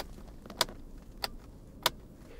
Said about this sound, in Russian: Есть звук. К примеру, включение противотуманок.